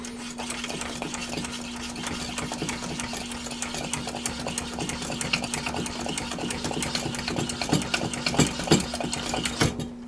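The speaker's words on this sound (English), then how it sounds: "with this valve closed, I'm going to go ahead and pump this stove up" Hand pump on a 1987 Coleman 425F camp stove being worked repeatedly with the valve closed, a steady stream of rhythmic mechanical strokes and clicks over a constant hum, close and fairly loud.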